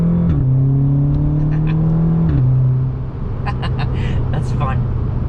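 Audi S3 engine pulling hard and loud through two gear changes, each shift dropping the drone before it climbs again, followed by a cluster of sharp crackling exhaust pops after the shift.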